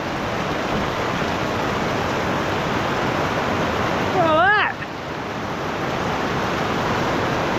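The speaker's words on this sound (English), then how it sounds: "We've got our own waterfall." Steady heavy rush of water pouring off a van roof splashes continuously throughout, loud and close, with a brief voice cutting in partway through.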